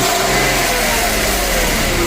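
A 1998 Mercedes S600 coupe V12 with its catalytic converters cut off revs hard and continuously, a raspy, buzzing roar that stays steady throughout with no voices.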